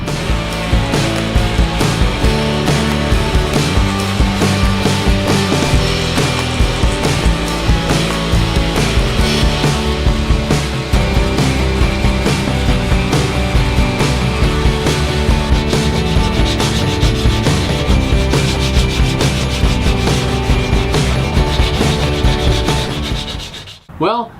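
Wooden speaker shelves have their curved, rounded-over edges sanded by hand, a continuous close and loud scratchy rubbing with quick back-and-forth strokes that fades out only at the very end.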